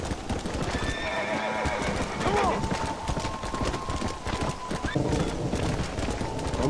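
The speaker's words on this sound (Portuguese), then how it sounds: "Adoro ficar dando rolê a cavalo, assim é muito da hora." Hooves clop steadily while riding a horse in Red Dead Redemption, with a horse whinnying partway through, mixed with game ambience and someone talking over it.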